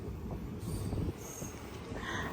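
Express train on the Tirupati–Bilaspur weekly run pulling out of Kesinga station, a steady low rumble of wheels and carriages rolling continuously, with faint high squeals and hiss over the top.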